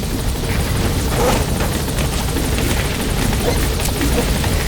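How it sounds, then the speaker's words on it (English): A helicopter touches down in Metal Gear Solid V: The Phantom Pain, its rotor a loud, continuous thudding roar that fills the scene at close range. "All right, the chopper's touching down."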